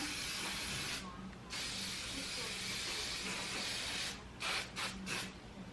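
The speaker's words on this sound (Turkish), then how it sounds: "Şöyle spreyliyorum." Long continuous hissing sprays from a hairspray can, close by, with short pauses and a few quick spurts near the end.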